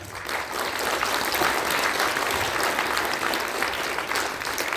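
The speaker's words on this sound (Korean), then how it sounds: "우리 류종열 공동대표님을 큰 박수로 모시겠습니다." A large audience at a Korean party launch ceremony gives loud, sustained, dense applause to welcome a co-chair to the stage, steady and even throughout.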